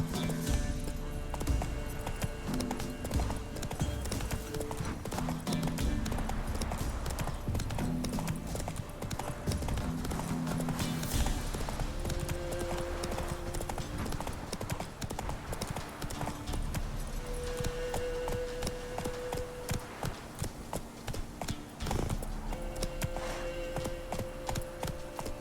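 Roach the horse gallops with steady rhythmic clip-clop hoofbeats in The Witcher 3 game, close and continuous over a bed of game music and ambient sound, with a brief whinny-like sound.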